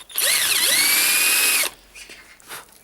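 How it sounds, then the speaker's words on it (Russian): A power drill bores out a center punch mark on a Toyota Corolla 120 steering rack, a loud high-pitched whine lasting about a second and a half, then stopping abruptly into faint handling noises. "И эта керновка просто высверливается."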